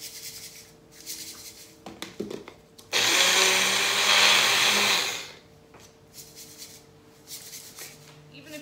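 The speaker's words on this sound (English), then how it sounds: "put it in your bullet or your coffee grinder" A small electric coffee grinder whirs loudly for a couple of seconds, rattling as it pulverizes eggshells into powder, with quiet handling noises before and after.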